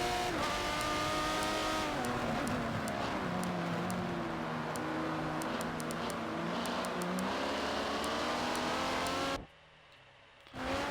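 In a racing game, an Aston Martin DBR9 race car's engine drones steadily and loud with shifting pitch while its rear tyres spin and squeal, then the sound cuts out abruptly near the end.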